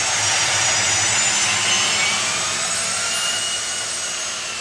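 The jet engine of an A-10 ground-support aircraft gives a loud, steady, broadband roar with a high whine on top. It holds constant and close throughout, with no voices.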